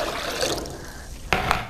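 Warm water being poured into a container during preparation of a clay pack, a brief, soft trickling splash with a slightly stronger burst near the end.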